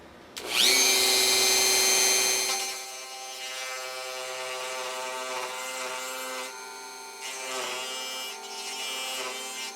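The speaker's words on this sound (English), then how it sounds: "we have a 1/8 inch diameter flat bottom metal burr in there and it wants to skate" A rotary tool fitted with a 1/8 inch flat bottom metal burr cuts on an Ibanez guitar. It starts loud with a high whine, then settles into a steadier, quieter grinding tone that swells again briefly near the end.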